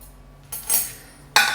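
Cutlery and dishes clink as homemade biscuits and sausage gravy are dished up, with a few brief, close metallic and ceramic knocks, one in the middle and a sharper one near the end.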